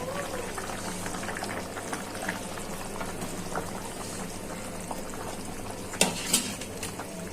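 Vegetable curry of ridge gourd bubbles steadily in a pot, a continuous low simmering hiss with a couple of sharper clinks of utensil near the end; no voices.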